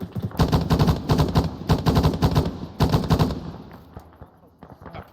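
Rapid bursts of gunfire ring out during a military field training exercise ambush, loud, dense automatic volleys for about three seconds before tapering into scattered fainter reports, with a voice faintly underneath.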